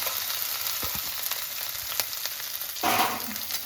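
Chopped ginger and green chilies fry in hot oil with cumin seeds, a continuous hissing sizzle with small pops, swelling louder toward the end as they are moved about.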